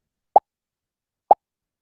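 Two short, bright pops play about a second apart when Scratch sprites are clicked in a beginner coding project, each one brief and isolated against silence.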